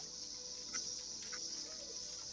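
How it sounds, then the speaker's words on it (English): Cicadas drone steadily outdoors on a cool day, a continuous high shrill buzz at moderate distance with faint intermittent chirps and rustles underneath. "Of the cicadas, yeah, it's quite nice."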